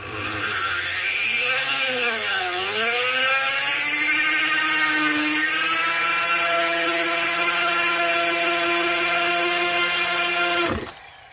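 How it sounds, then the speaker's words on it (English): A Harbor Freight variable-speed multi-tool runs in a clay workshop, its high whining motor dipping and rising in pitch as the speed changes, then holding a steady buzzing whir before it abruptly cuts off. "is a multi-variable or a variable speed multi-tool from Harbor Freight."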